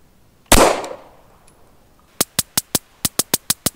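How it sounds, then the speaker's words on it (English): Factory FMJ ammunition fired as gunshots: one loud report with a long decaying tail, then after a pause a tight series of ten sharp, evenly spaced shots in two groups of five, with no talking. "I'm gonna shoot two groups of five."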